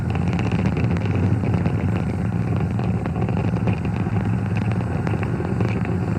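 Merlin engines on a SpaceX Falcon 9 first stage thunder during launch as the rocket throttles down ahead of max Q. The roar is steady, rumbling and crackling, and it holds at an even, loud level throughout with no voices.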